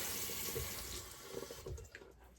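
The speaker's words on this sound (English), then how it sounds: "just rinse it out with some warm water" Warm tap water runs steadily over a shaving brush being rinsed in a sink, a continuous close splashing stream with brief gurgling changes near the end.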